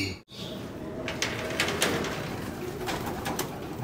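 Pigeons in the stock hen section of a loft, with soft cooing and rustling close by, plus a few brief scuffs and flutters, steady and fairly quiet.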